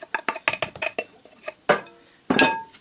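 Onions and peppers going into a cooled pan and stirred with a utensil, a quick run of close clinks and scrapes followed by two louder scraping pushes.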